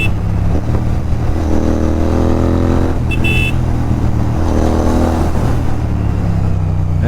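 Loud, steady road traffic with cars and auto-rickshaws passing nearby, engines droning and revving, with a brief horn toot partway through.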